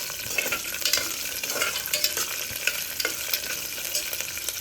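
Val bean seeds stir-fried in a pan for pavta rice: a steady, close sizzle broken by repeated scraping stirs, with no one talking.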